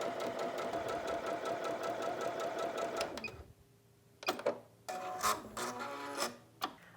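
A sewing machine stitches quilt triangle units with a fast, steady mechanical whir for about three seconds. Then it stops, and short clicks and rustles follow close by.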